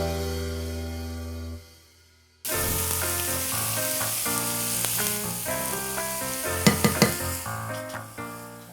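Onion sizzles steadily in a hot frying pan, loud and close, with stirring clatter and scrapes and a soft music bed playing underneath.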